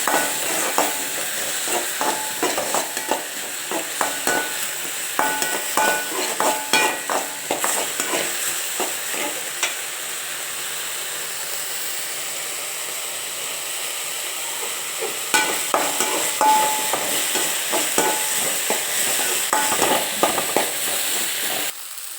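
Soaked lentils fry with curry leaves in a pan for banana flower poriyal, giving a continuous close sizzle broken by frequent scraping and clattering stirring strokes, with no talk.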